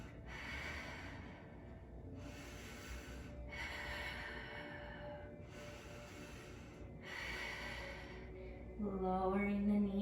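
Deep, steady breaths during a core-strengthening yoga hold, five rhythmic close airy exhales spaced about every one and a half seconds, with a brief voiced sound at the end.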